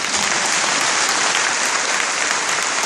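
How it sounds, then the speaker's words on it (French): A church congregation claps together during a praise service, a dense, steady wash of applause that carries evenly through the whole stretch with no voices on top. "Applaudissons-le."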